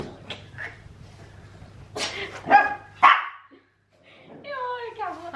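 A dog gives a few sharp barks and yips up close, followed by a higher whining sound, with a low steady hum underneath.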